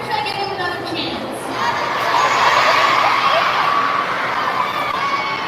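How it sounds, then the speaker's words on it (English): Audience at a VidCon 2025 stage event, cheering and shouting, high children's voices rising into a loud, sustained roar. "Most of you are just cheering."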